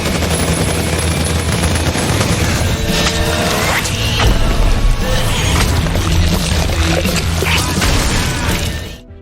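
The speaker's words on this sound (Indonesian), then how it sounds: "mereka diserang dari arah bukit oleh tembakan bertubi-tubi dari seorang sniper misterius." A loud, relentless barrage of sniper gunfire from a hillside, shots crackling in rapid succession for several seconds before cutting off abruptly.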